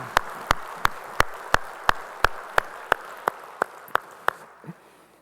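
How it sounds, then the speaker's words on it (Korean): A church congregation claps in unison, producing about a dozen sharp, evenly spaced claps at a brisk steady beat before they stop. "우리 찬양을 받으실 주님께 영광의 박수 올리겠습니다"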